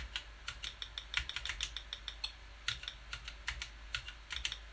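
Keys clack on an Apple IIe keyboard during game play, irregular bursts of quick close presses with short pauses, crisp and fairly quiet, no voices.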